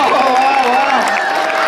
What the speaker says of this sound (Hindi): बड़ी जोरदार तालियां